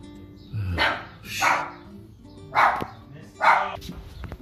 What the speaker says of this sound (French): désolé, mon chien qui me reconnaît pas